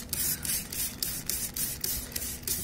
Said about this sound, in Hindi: ये देखिए मैं वॉश आउट कर रहा हूँ